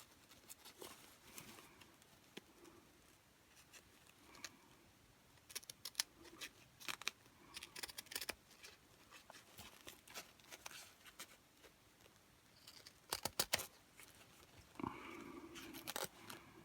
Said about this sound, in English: we're just going to cut around the seam, as close to the seam as you can, on the bodice to start with